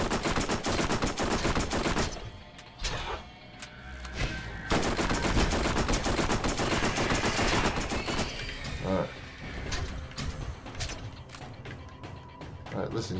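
Rapid gunfire in the shooter Borderlands, loud automatic bursts and crackling impacts filling most of the span, with a brief lull near the middle and someone talking over the shots.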